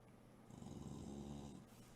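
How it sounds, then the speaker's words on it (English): A dog growling low and continuously for about two seconds, close and fairly quiet, with a rumbling, snore-like texture. "He's back to his regular growling at meself."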